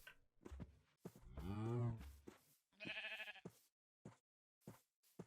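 Minecraft sheep bleating in a few short nasal cries of varying length, spaced across the moment alongside other blocky game animal sounds, fairly clear and close with no talk over them.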